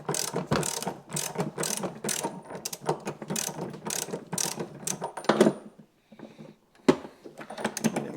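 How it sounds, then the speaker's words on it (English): A ratchet wrench loosens the nut on the end of a Jetsurf DFI motorized surfboard's gear during a yearly service, giving a steady, close run of rapid clicking that stops briefly and then returns with a few final clicks. "We just undo the nut on the end."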